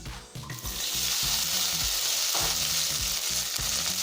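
Okra (vendakkai) fries in a little oil in a kadai, giving a continuous bright sizzle with rhythmic stirring scrapes, close and alone without talk.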